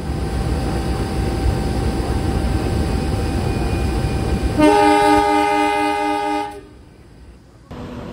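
The Ijen Express train rushes past at speed on a single track, a roaring wash of noise joined midway by a loud sustained horn blast that cuts off abruptly before the rumble fades and returns.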